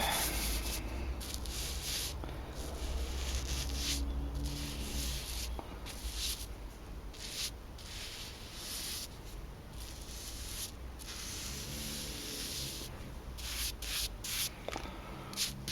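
A paintbrush spreads a coat over a wooden water collector built for a concrete coring rig, making repeated close, scratchy rubbing strokes in an uneven rhythm, with brief pauses between passes and no voices.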